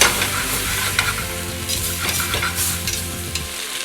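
Flour and garlic fry in a pan as a thickener for beef in porter, giving a loud, steady sizzle with stirring scrapes close up and no voices.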